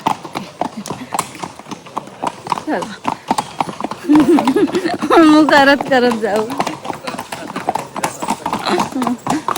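Rhythmic horse hoof clip-clop on a path at Matheran, steady and close, with people talking over it throughout.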